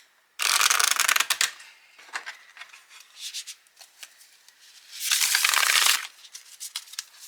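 Oracle cards from a gilded Norse goddess rune deck being shuffled by hand, giving two dense bursts of riffling flutter with softer, scattered card taps and handling noises between them, close and clear with no talking.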